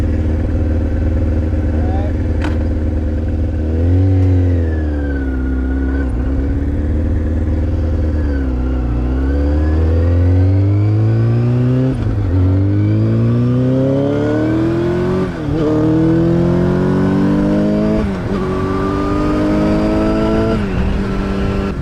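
Motorcycle engine close by, revving up and down through the gears while riding, with rising and falling pitch and steady wind rumble.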